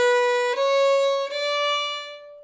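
Solo violin playing three sustained quarter notes of the same pitch, smoothly connected with almost no space between strokes, clear and close, with the last note fading out.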